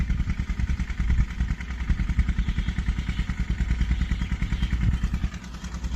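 Tractor engine running steadily while sowing chickpeas in a farm field, a close, loud, continuous mid-pitched chugging with rhythmic clattering and thumping throughout.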